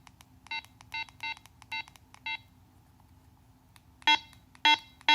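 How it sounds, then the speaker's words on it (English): An unprogrammed Motorola CLS1410 two-way radio lets out short electronic beeps at its button: first a run of five quick even tones, then a pause, then three louder beeps. "It's just going to beep. It's not programmed."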